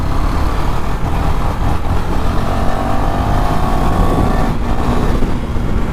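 Gixxer SF 150 and R15 V3 motorcycles rev hard in a fly-by on the road, a continuous loud engine drone with rising pitch that swells and passes without a break, no voices over it.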